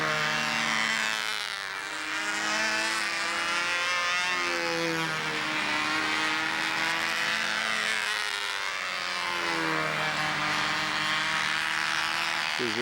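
A small model airplane engine, a B-25 built at a 4-H Learn to Fly Day, runs loud and steady at launch, its buzzing whine rising and falling in pitch as it revs and pulls away.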